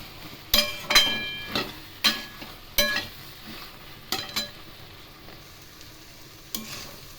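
Stirring of a Bengali-style niramish panchmishali mixed-vegetable sabji just after sugar is added to the pan: a series of sharp spoon scrapes and clinks against the pan, irregularly spaced, over a faint low sizzle, with no talking.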